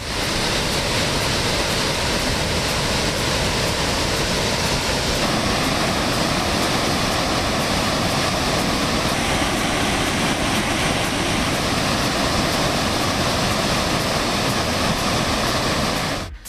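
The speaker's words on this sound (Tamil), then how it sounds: "திருப்பரப்பு அருவியில் தண்ணீர் ஆர்ப்பரித்து கொட்டி வருகிறது" Thiruparappu waterfall in flood, heavy water pouring down in a loud, steady, unbroken roar with dense broadband rush close by, no voices.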